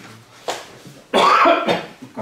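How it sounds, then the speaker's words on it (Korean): Someone speaking at a Bible seminar coughs in a couple of sharp, loud bursts close to the microphone, then clears his throat. "갑자기 왜 이렇게 기침나?"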